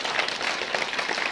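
Brief burst of dense audience clapping for schoolchildren at an Independence Day school function, an even, fairly close wash of many hands with no voices.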